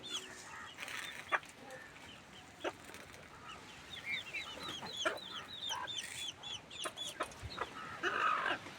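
Backyard chickens and chicks cluck and peep near a water dish, with several short calls and chirps scattered at moderate distance over a quiet outdoor background.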